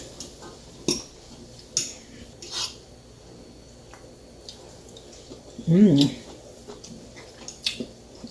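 A spoon stirring callaloo greens in a cooking pot, scattered soft scrapes and taps against the metal with one louder rasping stir, while a person speaks quietly.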